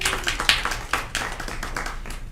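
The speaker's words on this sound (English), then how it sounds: "Everywhere Earl goes, people clap for him." A small group of people clapping for a man named Earl at a study session, a short burst of fairly close, uneven claps that thin out over a couple of seconds.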